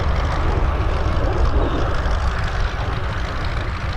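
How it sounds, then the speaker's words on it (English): A Canada-built Sabre Mark 6 jet at an airshow gives off a loud, steady broadband engine roar that holds nearly constant and stays close for the whole stretch. "This machine is a Canada-built Sabre Mark 6."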